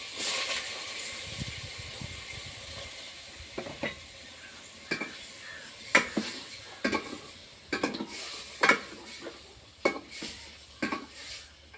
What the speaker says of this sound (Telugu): నూనె ముందుగానే వేసుకుంటున్నాయి ఇప్పుడు ఒక ఇరవై నిమిషాల పైన ఇది ఇట్లానే నూనెలోనే మారుతారు బాగా